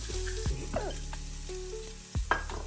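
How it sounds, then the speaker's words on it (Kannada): Spices and coconut being fried in a pan with occasional stirring, a quiet sizzle broken by a few scraping clinks of the spoon, heard close and without talk. "ಇಷ್ಟು ಸೇರಿಸಿ ಹುರಿತೀನಿ ಸ್ವಲ್ಪ ಕೆಂಪಾಗೋ ತನಕ."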